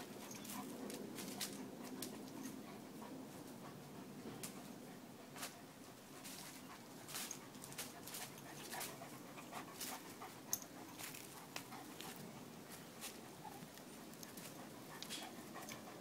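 A dog pants in quick, steady breaths with occasional soft whimpers, close by and fairly quiet, with faint bird calls in the background.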